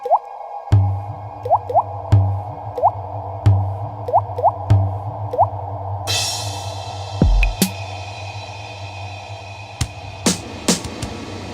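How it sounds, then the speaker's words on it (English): Short, hollow synthesized cowbell hits repeat in a loose rhythm, each one trailing off into a long, washy reverb. Later the background turns hissy, with a few sharp clicks. "Maximize the reverb on that cowbell."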